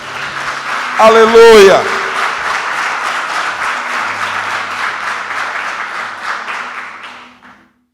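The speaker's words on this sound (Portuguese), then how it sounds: "Você pode aplaudir o Senhor por isso?" A church congregation applauding the Lord during a sermon, brisk scattered clapping that follows a shouted exclamation, fairly close and lively, then tapering off to quiet.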